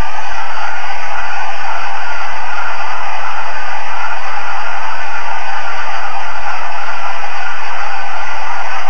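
Android ghost box app sweeping rapidly through signals, a loud continuous hiss of static with faint flickering fragments in it, steady and unbroken throughout.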